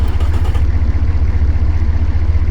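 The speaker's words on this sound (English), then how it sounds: "As always, the idle sound of V16 is beautiful." A V16 car engine idles with a steady, loud, low throbbing rumble and light mechanical clatter, close and unbroken throughout.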